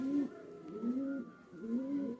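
Pigeons cooing in a loft, three slow rounded coos in an even rhythm, close and fairly soft against a quiet background.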